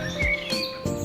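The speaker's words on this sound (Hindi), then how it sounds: "चिड़ियों के चहकने की आवाज़ कितनी साफ सुनाई दे रही है।" Morning birdsong near Rishikesh, with several bright, close chirps and tweets in quick succession over a quiet background.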